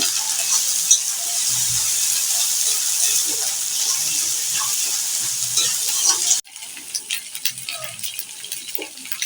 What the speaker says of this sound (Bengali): আদা রসুনটাকে একটু ভেজে নিচ্ছি